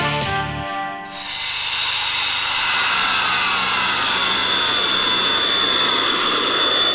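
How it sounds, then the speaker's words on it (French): A Swiss military fighter jet roars overhead crossing a national road, a loud sustained hissing rumble that swells quickly and stays intense as it passes close by. "Un avion de chasse qui traverse une route nationale"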